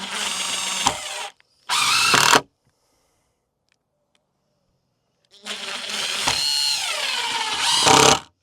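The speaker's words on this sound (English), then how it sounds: "Just connect these 2 with 3 screws." A power drill drives screws into wooden garden bed frames in short bursts, two quick runs, a pause, then a longer whining run, close and loud.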